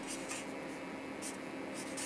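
A pen writing out a secret code message on paper, giving a continuous close scratchy rub with a few brighter strokes, no talk.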